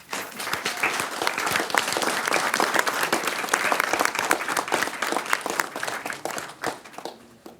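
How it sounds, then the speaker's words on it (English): An audience at a school board business meeting claps steadily for an honoree called to the podium, a dense, sustained round of applause that carries through and tapers off at the very end. "Let's give her a round of applause"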